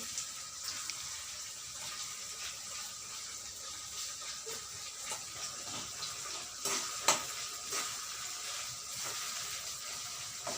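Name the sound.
frying onions in oil for gravy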